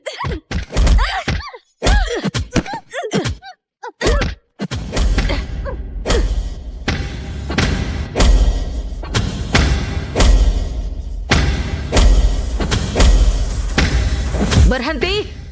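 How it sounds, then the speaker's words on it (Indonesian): Hard, heavy thuds and blows land on a person in quick irregular bursts, loud and close, with groans and raised voices mixed among the impacts. "pukul dengan keras"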